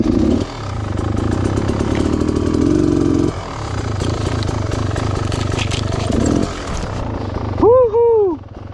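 A dirt bike rides down a rocky trail, its engine buzzing loudly and surging unevenly over the rocks, with a voice briefly whooping near the end.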